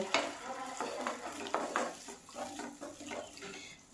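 A spoon stirs Ghee Katla fish pieces with spices and a splash of water in a pan, giving a run of scraping clinks and a light sizzle, close and fairly clear with no talk.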